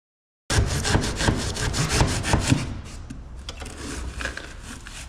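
Foam is cut out by hand inside a Starcraft V boat hull with steady, rhythmic rasping saw strokes, close and loud at first and then softer and quicker.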